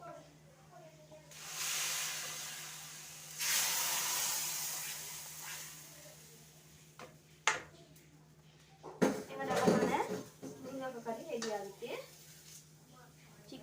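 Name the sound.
hot tempering added to a curry, sizzling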